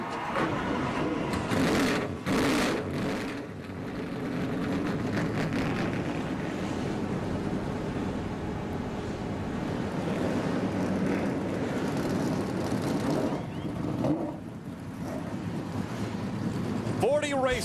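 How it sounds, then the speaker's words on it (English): Many NASCAR race car engines fire up together at Irwindale and settle into a dense, droning roar. It sounds loud and sustained and comes in waves as the engines rev. "Drivers, start your engines!"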